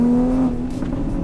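A Toyota Supra engine pulling hard under acceleration, a steady loud drone with a rising tone inside the car, no talking over it.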